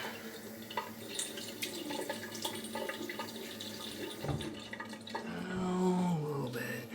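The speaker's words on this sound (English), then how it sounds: "let's have a rinse." Tap water running and splashing into a sink as a razor is rinsed during a wet shave, a steady close trickle with a few drips that swells louder near the end.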